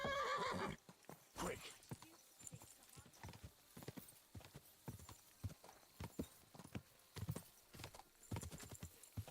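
A horse in the video game Kingdom Come: Deliverance II gallops with steady, rapid clip-clop hoofbeats and neighs loudly near the start, with a brief spoken exclamation over it.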